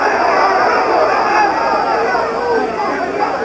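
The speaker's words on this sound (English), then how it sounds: "Big roar for the crowd, from the crowd for Vito, who is their favorite here." A boxing arena crowd roars for middleweight Vito Antuofermo in his title bout against Hugo Corro, a loud, steady wash of crowd noise with a commentator talking over it.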